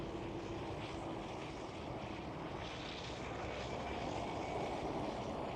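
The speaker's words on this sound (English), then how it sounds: "And that is indeed a KLM" A KLM airliner passes over Schiphol airport in Amsterdam, its engines a steady, broad distant roar that holds evenly throughout without voices.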